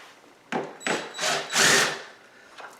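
A power drill or driver fires in short bursts while taking out screws on a subwoofer setup, four close, loud whirring runs with pauses between them and a faint last bit, with no talking.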